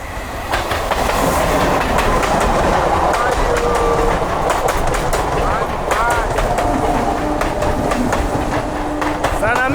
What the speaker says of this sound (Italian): Stranamente un treno quasi vuoto.